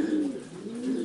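Racing pigeons coo nearby in a breeding loft in a soft, low, rolling burble, a single continuous call rising and falling with no voices over it.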